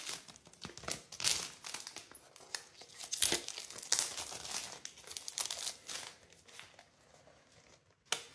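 Crinkling and tearing of plastic and paper packaging as a VHS cassette is unwrapped, in close, irregular bursts of crackle with quieter pauses between.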